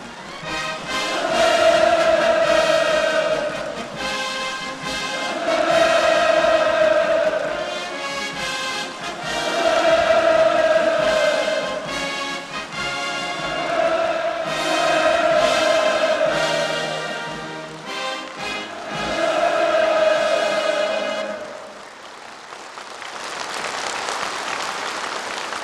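A vast crowd at a munitions industry congress roars and applauds in long, loud, rhythmic waves of cheering and clapping that swell and recede several times, then fade near the end.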